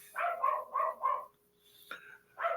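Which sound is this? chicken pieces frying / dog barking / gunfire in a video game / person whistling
dog barking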